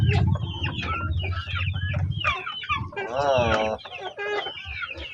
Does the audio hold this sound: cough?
no